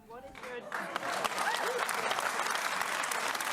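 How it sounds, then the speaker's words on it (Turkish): Applause from a lecture audience at a talk, with a few scattered claps first, then a full, steady burst of clapping from a large crowd that carries on without letting up. "Tekrar alkış aldı"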